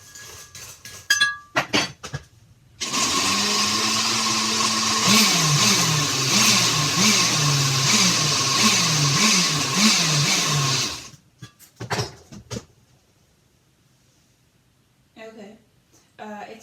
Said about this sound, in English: I don't have a food processor, so I'm using the blender.